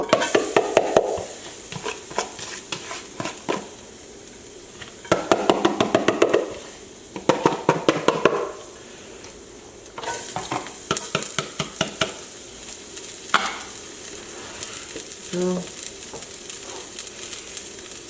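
Garlic and scallion whites sizzling in a hot pan while being stirred, a close, continuous frying hiss broken by bursts of scraping and clattering strokes of the utensil, no talking.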